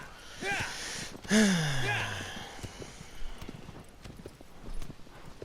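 Horse in Shadow of the Colossus, a whinny with a falling snort, then soft irregular hoof clip-clops at a slow pace, moderately close.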